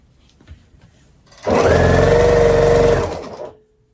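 A sewing machine stitching quilt pieces in one short run of about two seconds, a loud close motor whine with rapid needle clatter, starting abruptly and winding down, with no voice.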